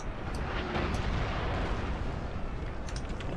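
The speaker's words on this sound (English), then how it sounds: "We should see the first cannon volley coming off in a short second here." Cannon volley in Napoleon: Total War, a dense, continuous rumbling roar of artillery fire with a few sharper bursts standing out over the battlefield din, steady and loud throughout.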